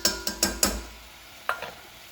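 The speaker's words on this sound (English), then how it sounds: "give it a little bit of a stir, just like this." Flour being stirred into melted butter in a pan for a bechamel white sauce: a quick run of four sharp scraping strokes, a pause, then two or three more, close and clear with a faint sizzle beneath.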